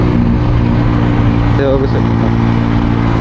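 Honda Dio scooter fitted with an aftermarket silencer exhaust runs with a steady, loud engine drone close by, while someone talks over it.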